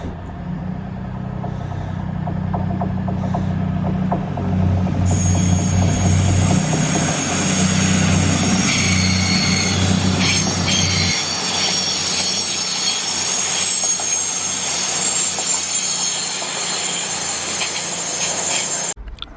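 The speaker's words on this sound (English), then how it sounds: "Next train coming round the curve is going to Leicester and Nottingham, calling at Kettering." A passenger train rounds a curve, its wheels squealing loudly against the rails over a steady rumble of rolling cars, the screech sustained and close throughout.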